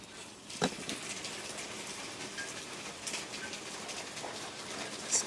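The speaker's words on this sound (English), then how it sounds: "Still raining." Steady rain falls outdoors on the third day of a storm, a constant soft hiss with a few faint distant bird calls and brief knocks, no talking.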